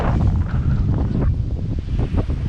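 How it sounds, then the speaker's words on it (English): Strong gusty wind roars and buffets the microphone on a coastline, with a faint wash of surf beneath and no talking. "this is how windy it is"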